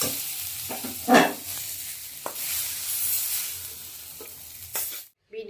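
Red amaranth greens frying in a pan give a soft hiss with a few scattered stirring knocks, close by, ending abruptly in silence.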